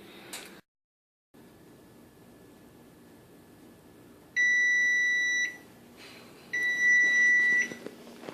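An electronic kitchen timer sounds two bursts of shrill, steady beeping, each lasting about a second, over a quiet kitchen background after cookies go into an oven preheated to 375.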